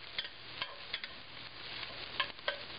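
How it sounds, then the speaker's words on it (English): Garlic cooking in a pan for Thai pineapple fried rice, with faint sizzling and a few light stirring scrapes at irregular intervals, quiet and close, with no one speaking. "And you only want to cook it until you can smell the garlic."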